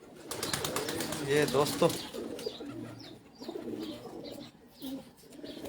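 Large flocks of Pipla-breed pigeons coo softly on a rooftop, their low murmuring calls mingling with bird chirps while someone speaks over them.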